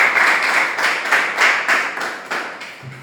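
Loud, sustained applause from an audience at a Kannada literary felicitation event, a dense wash of clapping with rhythmic swells running throughout and no talk over it.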